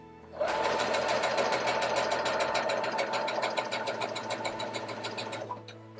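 A sewing machine running a narrow zigzag stitch, a fast, even mechanical clatter with rapid regular needle strokes for about five seconds, close and alone before it winds down.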